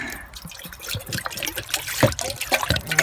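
Water pours and splashes into a cooking pot at an outdoor camp with gurgling, bubbly trickles, close and fairly loud, with a few light knocks.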